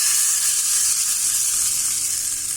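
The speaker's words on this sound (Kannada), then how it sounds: "ಚಟ್ನಿಗೆ ಒಗ್ಗರಣೆ ಹಾಕೋಣ" Hot oil tempering with mustard seeds and asafoetida poured into raw green tomato chutney, producing a loud, steady close-up sizzle that fills the whole moment without any speech.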